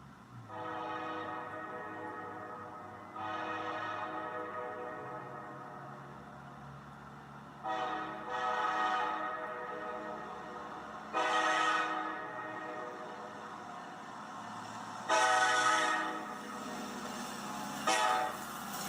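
A train horn sounds a series of long toots with pauses between them, playing Jingle Bells over the steady rumble of the engine and cars nearby.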